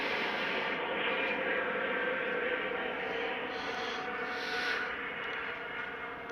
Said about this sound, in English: I love that sound. Powerful engine of a jet.